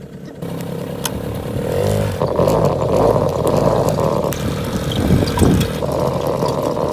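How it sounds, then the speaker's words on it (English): Suzuki LT50 motorbike engine running steadily throughout a ride, a continuous mid-level drone with small surges and clattering mechanical noise, captured close up with wind and road rumble mixed in. "I'm doing the motorbike ride"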